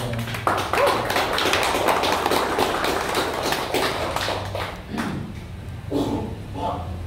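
Audience applause at an Indonesian company event thanking organising committees, dense clapping for about five seconds that thins out and fades into scattered claps and murmur.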